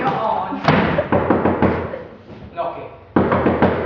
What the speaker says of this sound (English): Knocking.